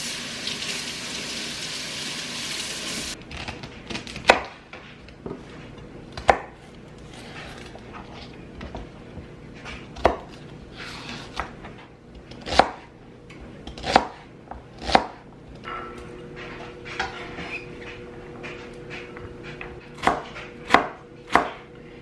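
Knife chopping celery on a cutting board set on a dish towel, a series of sharp, close thumps at irregular intervals after a brief rush of running water at the start.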